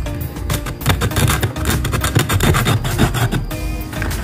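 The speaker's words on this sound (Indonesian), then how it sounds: "Gunakan amplas guys." Sandpaper rubbed by hand across the cut end of a PVC pipe, a steady dry rasping scrape that keeps on with quick back-and-forth strokes, loud and close with no talking.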